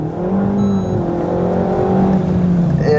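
A Cupra Leon or Renault Megane RS hot hatch accelerates hard, its engine holding a loud, steady, close-up drone with rising harmonic tones throughout and no talking.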